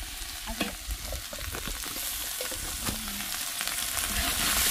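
Coriander leaves drop into hot tempering for a village mutton curry cooked on an outdoor wood-fired stove, a close, steady sizzle with scattered clicks of stirring.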